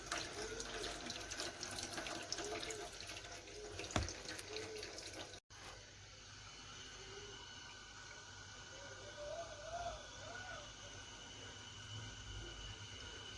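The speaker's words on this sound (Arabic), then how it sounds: "اخر مره بقى بحط فيه ميه كده عشان يتغسل من جوه كمان." Tap water running into a stuffed bumbar casing to rinse its inside while cooking, a steady, fairly quiet stream with a short break partway through and soft gurgles.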